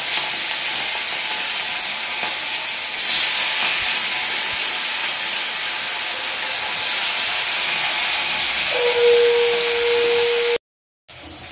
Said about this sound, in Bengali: এবার মাছগুলো ভেজে নেওয়া হবে।